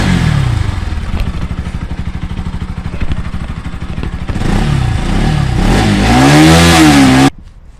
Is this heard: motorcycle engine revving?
yes